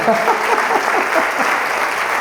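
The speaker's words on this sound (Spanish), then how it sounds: "denle un aplauso al Señor" A congregation applauding steadily at a church sermon, dense clapping filling the room, with a voice faintly audible underneath.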